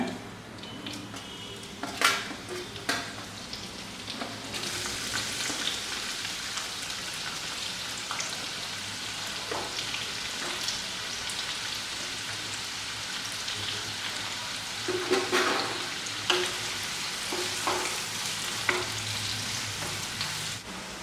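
Onions, green chilies and curry leaves sautéing in oil in a pan for potato curry, a steady close sizzle like rain, with scraping stirs and occasional louder bursts through the span.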